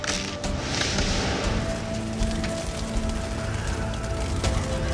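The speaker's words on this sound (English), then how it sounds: "Hail and wind attacked the castle roof every day" Hail and wind beat on a castle roof in an animated children's story, a dense, continuous patter of drops and small impacts with a steady rushing wash, loud and close throughout, with no voices.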